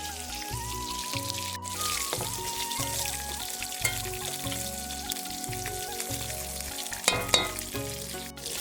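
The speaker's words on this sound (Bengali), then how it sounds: "এর মধ্যে এবার লবণ আর হলুদ দিয়ে আবার একটু কষিয়ে নেব।" Spice paste with salt and turmeric frying in oil in a pan, a steady close sizzle with occasional stirring scrapes and small pops, no voices.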